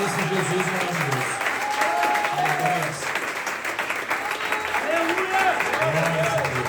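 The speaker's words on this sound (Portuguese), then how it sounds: "eu vou pedir para você dar uma salva de palmas, a melhor salva de palmas a esse Jesus maravilhoso" A church congregation applauds at a church inauguration, steady clapping throughout with voices and shouts of praise mixed in beneath.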